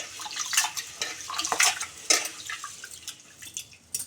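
Soaked rice and split mung dal are rinsed by hand in a vessel for pongal, giving close, irregular sloshing and dripping water with light clinks of the pot.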